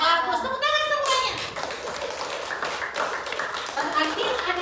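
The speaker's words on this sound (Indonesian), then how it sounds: "Bagus, tepuk tangan semuanya." Schoolchildren clapping together in a classroom, a brief patter of hands mixed with children's voices, with a teacher's speech rising over the claps at moments.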